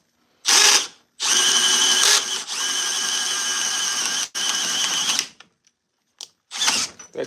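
A Milwaukee M12 sub compact drill whirs in several bursts with a ratcheting chuck that won't tighten, the close, loud motor starting and stopping in short runs separated by silent gaps.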